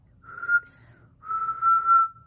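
A woman whistles two wavering, breathy tones, a short one and then a longer sustained one, close and fairly quiet, with a faint low hum underneath and no talking.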